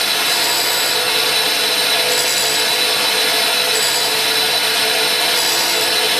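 A grinding wheel works along the flutes of a tap, a loud, steady, unbroken abrasive hiss and whine that holds evenly throughout with no voices.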